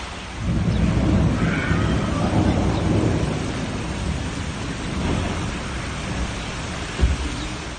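A thunderstorm over Amiens in June, one of several storm cells, brings steady heavy rain with deep rolling thunder that swells and fades. A sharp, close crack stands out near the end.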